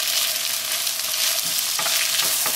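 Tomatoes added to a hot pan sizzle and crackle steadily up close, with a few soft stirring scrapes partway through.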